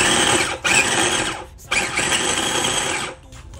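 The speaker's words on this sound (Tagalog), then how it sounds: "Uunahin ko ng gilingin mga kabayan na rin aking luya." An electric grinder whirs loudly as it grinds ginger and garlic for chilli garlic oil, running in three bursts separated by brief pauses, with no talking over it.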